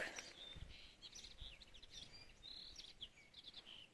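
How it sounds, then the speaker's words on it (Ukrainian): Faint morning birdsong in a garden with several chirping calls and tweets over a soft outdoor background hiss, fairly distant. "Пташки співають."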